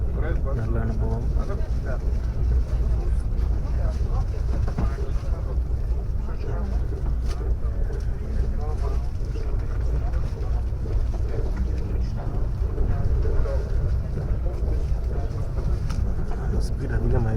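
Aboard a high-speed train running from Moscow to St. Petersburg at over 300 km/h, a loud, constant rumble and rushing air noise fill the whole stretch without letup.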